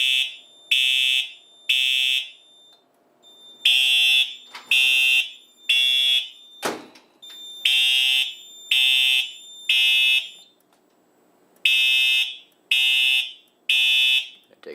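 A Simplex 4100U fire alarm system under test sounds a loud horn pattern in repeated rounds of three long blasts with an out-of-sync, skipping start, plus a brief thump midway.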